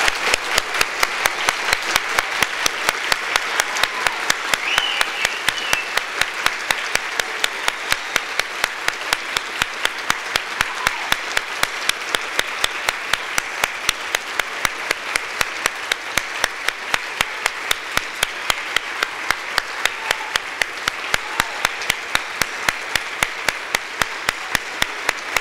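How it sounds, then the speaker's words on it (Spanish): Sustained applause from a panel audience, a dense, steady wash of many hands clapping at even loudness for the full duration with no pauses. "les pido un fuerte aplauso para ella, para María Eloísa Quintero."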